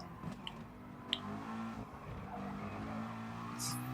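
Race car in Gran Turismo Sport braking hard, a steady engine drone with tire squeal and skid noise throughout a short stretch, fairly close.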